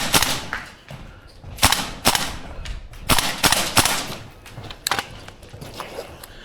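A Tokyo Marui AKM gas blowback airsoft rifle, stock out of the box, fires in a close-quarters indoor course: sharp cracking shots in irregular bursts and singles, close and loud, with no talking.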